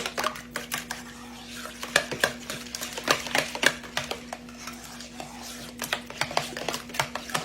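Two eggs being stirred into a golden broccoli casserole mixture in a home kitchen, a rapid series of sharp utensil clinks and scrapes against a bowl with a faint steady hum behind.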